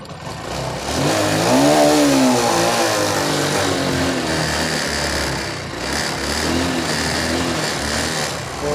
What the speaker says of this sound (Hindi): तो बाइक हमारी स्टार्ट हो चुकी है।